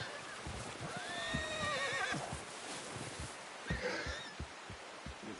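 Horse in a video game whinnies twice, a long shrill neigh followed by a shorter one, while hooves clop and thud in irregular steps close by over a low outdoor ambience.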